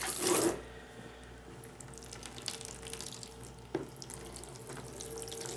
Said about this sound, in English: Get some warm water in here.